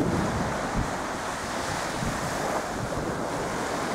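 Sea waves wash onto a beach in a steady roar, with strong wind buffeting the microphone and no voices.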